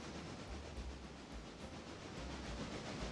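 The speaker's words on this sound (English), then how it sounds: "Oh, CSX train." A CSX freight train in a train video game rolls past with a continuous broad rumble and faint rhythmic clatter, steady and loud throughout with no talk.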